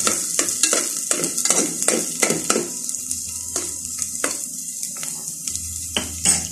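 Onions sautéing in a pan for a Filipino upo and sardines dish, a steady sizzle broken by repeated sharp clacks of a spatula scraping and tapping the pan, close and alone.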